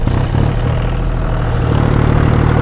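Tractor engine pulling in second gear through the sandy bed of a village stream, a loud, steady low rumble that holds without a break from start to finish.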